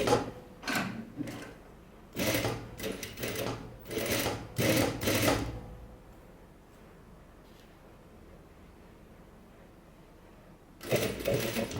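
A sewing machine stitches stretchy swimsuit fabric for a baby swimsuit in short bursts of rapid needle clatter separated by brief pauses, then goes quiet for several seconds before one more run starts near the end.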